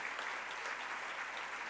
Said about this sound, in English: Let us give a round of applause to each and every person